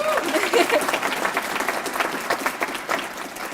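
An awards ceremony crowd claps for a student leadership recipient, a moderately loud, sustained patter of many hands, with some voices mixed in near the start.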